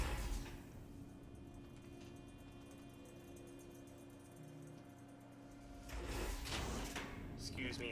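A bunker door in Fallout New Vegas slides open with a low mechanical rumble and hum, ending in a louder hiss and clunk, all beneath a quiet game ambience.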